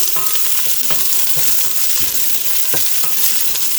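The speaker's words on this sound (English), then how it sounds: "So you can hear that it's sizzling" Steady, close sizzling and crackling of onion frying in a pan over medium-high heat, with occasional scraping or stirring taps, no talking.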